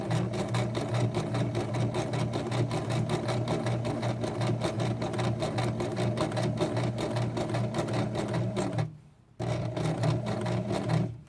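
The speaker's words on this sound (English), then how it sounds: "Lower my presser foot and continue stitching." A sewing machine stitches a fabric tote bag in a fast, even run of needle strokes, pausing briefly near the end before picking up the same steady rhythm again.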